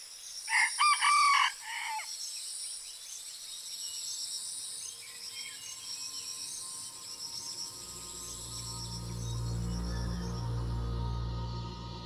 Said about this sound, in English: the red junglefowl